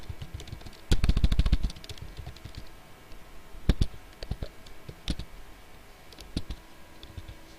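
Keys clatter on a computer keyboard: a quick flurry of typing, then scattered single clicks and taps spread over several seconds, close and fairly quiet.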